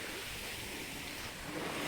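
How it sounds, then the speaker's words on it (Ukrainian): Warm, rough sea surf washes steadily onto the shore, a soft continuous roar with some wind noise and no speech. "Зараз вам покажу трошки моря."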